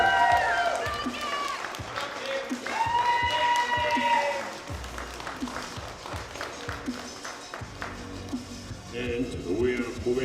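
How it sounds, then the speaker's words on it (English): Audience applause in an arena at a European equipped powerlifting championship, greeting a newly certified international referee: a moderate burst of clapping from the crowd, fading after a few seconds, with an announcer's voice over and after it. "Big round of applause for Kimberly Cowell."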